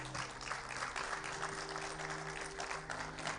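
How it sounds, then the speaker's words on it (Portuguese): Strong applause from a church congregation, dense and steady clapping for the full length with a low sustained organ or keyboard tone underneath. "quero um aplauso bem forte ao Senhor"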